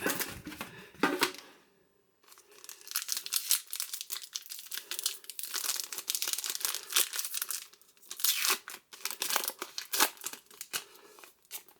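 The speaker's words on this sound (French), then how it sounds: "on va ouvrir la pochette pour voir le contenu" A foil Panini sticker packet is torn open and crinkled, with crisp ripping and rustling bursts up close, broken by brief pauses, loud and continuous for several seconds.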